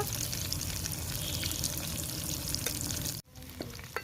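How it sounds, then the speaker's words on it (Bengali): Chicken lollipop pieces fry in hot oil over a low flame, giving a steady, close, dense sizzle and crackle that cuts off abruptly near the end, followed by quieter bubbling. "হালকা আঁচ রেখে চিকেনের এই পিসগুলো খুব ভালো করে ভেজে নেব"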